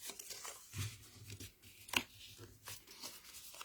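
A few quiet snips and paper rustles as scissors bevel the tabs of a small 8 cm folded paper square, with one sharper cut standing out midway, close and soft.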